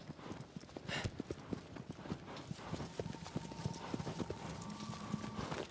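Steady clip-clop of a video game horse's hooves in Shadow of the Colossus at a quick rhythm, fairly close, with a faint tonal hum and occasional voice in the background.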